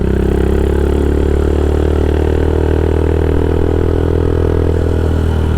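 Custom Royal Enfield Himalayan motorcycle built by Smoked Garage, its exhaust rumbling loudly and steadily at idle with a deep, throbbing low-end tone, close and continuous with no voices.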